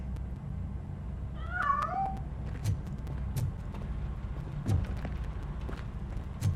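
A cat meows in Robocop: Rogue City, a few rising and falling calls near the start over a steady low game-ambience hum, with faint footsteps and soft knocks scattered through the rest.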